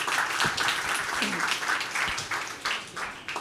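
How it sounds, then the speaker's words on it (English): Dense audience applause for panelists at a conference session on AI for impact, a steady wash of many hands clapping at once, fairly loud and sustained, with faint voices mixed in beneath it. "please give another round of applause to our panelists"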